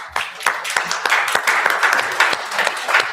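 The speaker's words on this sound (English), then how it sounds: "We can applaud." Audience applause breaks out after a sung morning intention, a steady patter of many hands clapping at close range for about three seconds, with faint voices mixed in.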